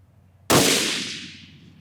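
A single 6.5 rifle shot with factory ammunition at a long-range 1,000-yard setting, one sharp loud crack followed by a long fading rumble, close and alone with no talk.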